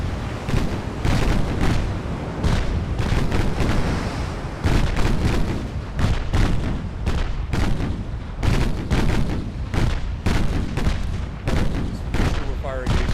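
Naval guns firing at an enemy ship in a naval warfare game, a rapid, continuous barrage of loud booming salvos and explosions, rhythmic and close, with a voice talking underneath.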